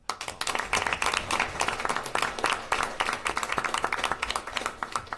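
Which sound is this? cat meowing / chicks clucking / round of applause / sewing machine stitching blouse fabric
round of applause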